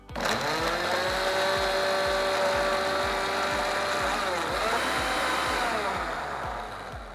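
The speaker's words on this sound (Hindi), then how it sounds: "टमाटर के साथ साथ इसमें हम डालेंगे काजू। इसको इसी तरीके से प्यूरी कर लेंगे।" A blender purees tomatoes with cashews for an achari paneer masala, giving a loud, steady motor whir with a rapid pulsing chop that holds for several seconds, then eases slightly toward the end.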